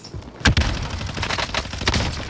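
Rapid bursts of gunfire in a trios battle royale video game match, a loud sharp shot followed by a string of quicker cracks, close and punchy.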